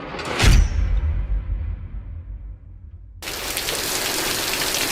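Heavy rain pours down outdoors in Georgia during a sudden downpour, a dense steady hiss of rain on surfaces arriving abruptly after a loud whoosh and a quieter stretch, close and loud.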